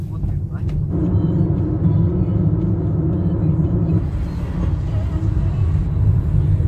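A car cruises along a road near Chelyabinsk, its interior filled with a constant low, heavy rumble of tyres and engine that holds steady from start to finish.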